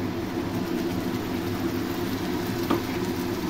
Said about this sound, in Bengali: সে পেস্টটা দিয়ে দেবো।